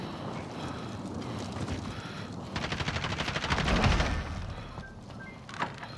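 Rapid automatic gunfire in Call of Duty: Modern Warfare bursts out amid a steady roar of background noise, rising to a dense rattling volley in the middle before easing off.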